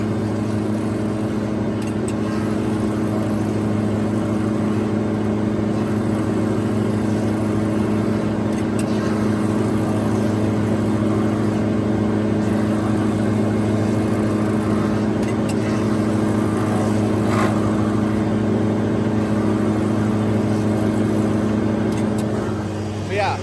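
A brand new forage chopper running its automatic knife sharpener, a loud steady mechanical hum with strong tonal drone and faint scraping under it, constant throughout.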